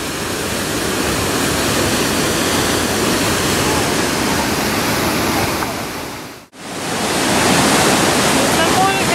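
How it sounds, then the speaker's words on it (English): A dense, continuous roar of a waterfall in Germany's southern Black Forest fills the clip, broad and loud, cutting out briefly near the end before resuming. "and that's the waterfall"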